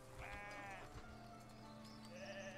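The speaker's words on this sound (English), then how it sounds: "look at all the little sheeps" Sheep bleat in the video game Foundation, two or three wavering calls that stand clear over a steady low ambient drone.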